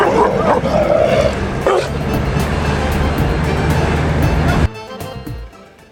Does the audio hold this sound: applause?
no